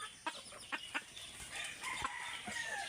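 Desi chickens and a rooster on a farm cluck in short, scattered calls, close and fairly soft, with a longer, rising crow-like call near the end and no talk.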